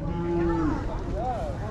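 A water buffalo at a busy livestock market lowing once in a short, deep, drawn-out call, close and clear over steady crowd background.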